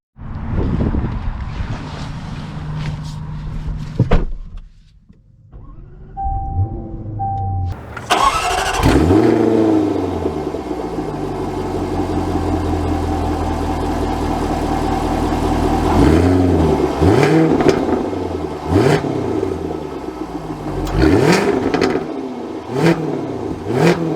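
A 2023 Jaguar F-Type P450 R-Dynamic cranking, starting with a loud flare, then settling into a rumbling idle before a series of sharp throttle blips and revs, loud and close with no talking.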